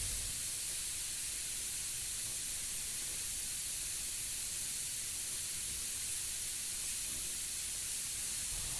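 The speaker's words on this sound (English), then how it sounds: "Let's spray some yellow on the nose to knock that white down" An airbrush sprays yellow paint onto the nose of a Killer Klown mask, giving a steady, even hiss that runs without a break from start to finish, close up and alone.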